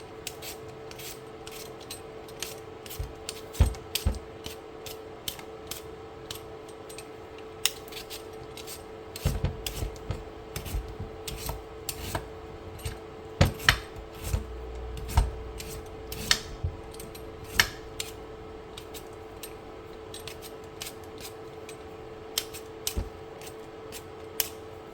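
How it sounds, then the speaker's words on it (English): Raw potatoes being peeled and diced for cheesy loaded mashed potatoes, heard as close, rhythmic scraping and rasping strokes with sharp knife clicks against a cutting board, repeating steadily throughout. "we're going to go ahead and peel the skin off of these potatoes"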